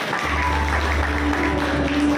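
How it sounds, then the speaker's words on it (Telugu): An audience claps together at a felicitation ceremony for an MP held in a prayer gathering, a steady, moderately loud patter of many hands over a low hum, with no speech heard. "అందరం చప్పట్లు కొడదాం."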